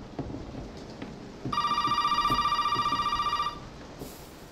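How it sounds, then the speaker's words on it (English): An old telephone rings in the video game Resident Evil 7, one sustained electronic bell ring lasting about two seconds over a low background of rain and rumble, with no speech. "I better answer the phone."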